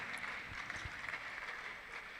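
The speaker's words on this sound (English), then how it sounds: "So I please give her a huge round of applause." A crowd at a Microsoft Learn student event in Akure claps for a presenter, a faint, steady patter of applause heard from a distance without pause.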